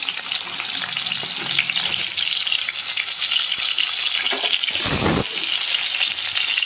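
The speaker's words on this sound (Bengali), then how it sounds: "দিয়ে দিলাম, পটলটা ভাজা ভাজা হোক।" Pointed gourd and potato fry in oil in a pan with a loud, steady sizzle and occasional stirring scrapes, swelling briefly in a sharp hiss near the end.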